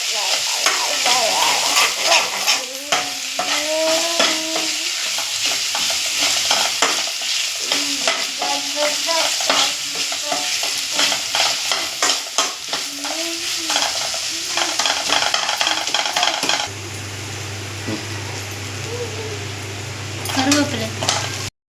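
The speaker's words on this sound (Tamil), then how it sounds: "தக்காளி, வெங்காயம், இஞ்சி பூண்டு பேஸ்ட்டு எல்லாமே நல்லா வதங்கணும்." Tomato, onion and ginger-garlic paste sauté in a pan for a vegetable kurma, with steady close sizzling and repeated spoon-stirring scrapes; a louder frying hiss and low hum take over near the end.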